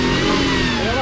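A motorcycle engine revs briefly and loudly nearby, its pitch rising then easing in a short mid-range growl lasting about a second.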